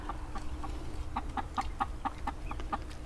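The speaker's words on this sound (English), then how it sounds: "They're good looking birds." Backyard flock of chickens with mixed white markings clucking in a steady run of short, evenly spaced calls, fairly close and moderately loud over a low hum.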